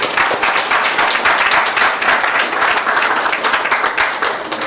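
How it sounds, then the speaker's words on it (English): Dense, steady applause from an audience at an inmates' art exhibition, loud and continuous throughout with no voices rising above it. "I think that this significant milestone deserves a round of applause."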